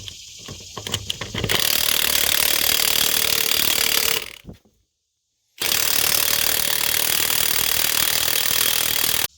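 An impact wrench rattles loudly in sustained bursts while removing lug nuts from a truck's tag axle wheel, with a short silent pause between two long runs and a few faint clanks at the start.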